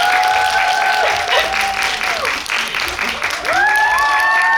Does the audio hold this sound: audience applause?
yes